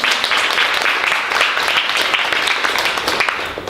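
Audience clapping at a poetry reading and open mic in a bookstore, a steady, dense burst of applause that carries on for several seconds at an even level.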